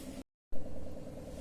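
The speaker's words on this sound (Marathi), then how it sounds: "हे पहा मी आता मिक्सरला लावून घेतलेलं आहे" A mixer grinder runs with mango, milk, ice cubes and sugar in its jar, making a steady mid-pitched motor whir that briefly cuts out before resuming.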